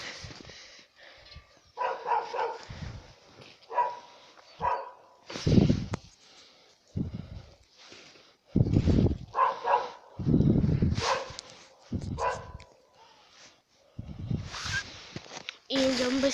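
A Central Asian Shepherd (Alabai) dog barks in several loud, close bursts spread across the stretch, with pauses between them and faint background sounds, outdoors on a walk.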